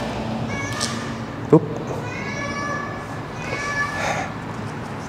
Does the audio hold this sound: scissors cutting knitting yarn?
no